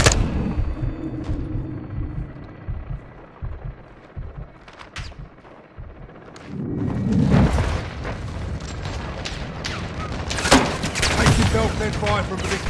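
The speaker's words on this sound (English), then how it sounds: "Weapons hot for gun run" A gun run in Modern Warfare 2 brings a rapid string of heavy booms and crackling blasts that swell loud in the second half, with radio voices talking over the barrage.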